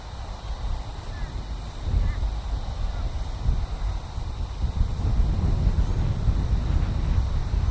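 Steady wind buffets the microphone on an open golf course, a constant low rumble that swells louder after the first couple of seconds and keeps gusting without pause.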